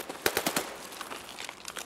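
Gunfire in an Escape from Tarkov firefight, with several sharp, quick cracks close together early on, then scattered softer shots further off, at a fairly low level.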